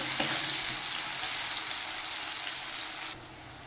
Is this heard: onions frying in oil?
yes